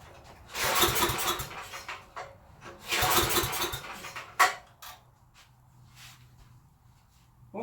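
Old Coleman Powermate 6250 portable generator being pull-started: two long bursts of engine cranking and sputtering, a sharp knock, then the motor fails to catch and fades to a faint low hum and quiet rattles.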